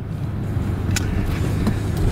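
A Nissan 300ZX Z31 being driven hard with the pedal to the floor, its engine and road noise forming a steady, close, unbroken drone for the whole stretch, with no talk.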